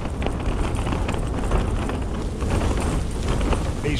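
Strong blizzard wind at 3750ft on an exposed hillside, blowing a constant 35 mph and gusting to 45, roaring steadily and buffeting the microphone close up with no let-up.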